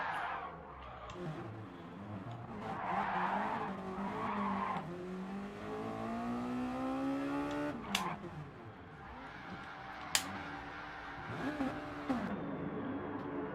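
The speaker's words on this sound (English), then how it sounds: "Burnouts are happening." Race cars at a Mazda Challenge round doing burnouts, with sustained, loud tire squeal and skidding over engine noise, several sharp peaks as the squeal rises and falls.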